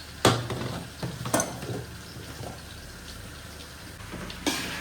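Ginger and chillies sauté in a pan with a soft frying hiss and a few sharp scraping stirs of a spoon, moderately close, no talking.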